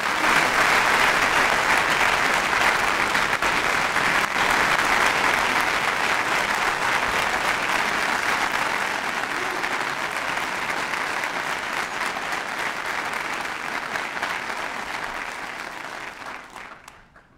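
A large audience applauds steadily for a lecture's guest speaker, former House Speaker Newt Gingrich, the dense clapping holding loud and even before fading out near the end.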